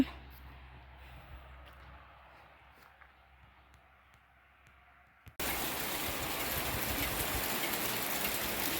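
Soft patter gives way to a sudden, loud, dense rattle of hail drumming on a surface during a hot-season storm, continuing steadily.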